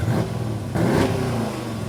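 A Dodge Durango R/T engine revs hard with a throaty exhaust roar, swelling to a sharp peak midway before settling into a steady, loud rumble.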